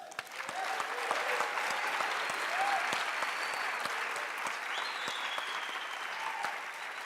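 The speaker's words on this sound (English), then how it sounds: "Can I hear people clap hands?" An audience at a church conference claps hands, a dense and steady wash of applause lasting the whole stretch, moderately distant and without any clear voices.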